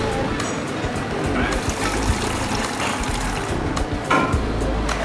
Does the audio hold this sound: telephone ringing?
no